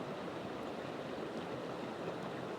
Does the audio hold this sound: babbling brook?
yes